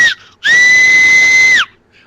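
A voice imitates a steam locomotive whistle with one loud, shrill, sustained tone of just over a second, standing alone.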